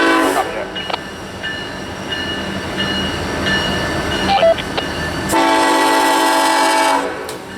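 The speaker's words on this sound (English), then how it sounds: "I set up just after dusk for FEC train 141" An FEC freight train rolls past just after dusk with a steady rumble and wheel clatter, its horn sounding loudly near the end.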